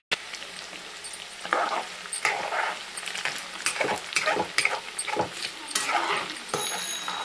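Food deep-frying in hot oil until golden brown, with crackling sizzle that comes and goes in bursts alongside stirring and utensil clatter, fairly close and moderately loud.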